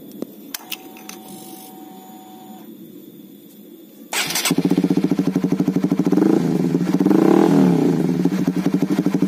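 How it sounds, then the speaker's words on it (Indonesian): A Honda CBR150R fitted with a Proliner TR1-R full-system exhaust fires up after a few faint beeps and settles into a loud, close, steady idle with a rapid, even pulsing thump. "Ini dia suara pada saat mesin sedang standar atau idle pada RPM-nya."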